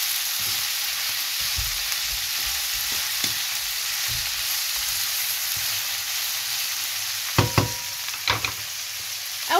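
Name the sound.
frying and stirring peppers and onions for shawarma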